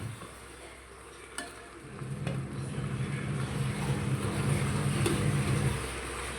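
Beef being added to a pan and stirred: a soft thud, then a steady close sizzle with scraping stirring that swells for about four seconds before easing.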